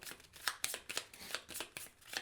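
Cards being shuffled at the table for the Marvel United board game, a quick run of crisp riffling bursts repeating in steady rhythm, close and quiet, with no one talking.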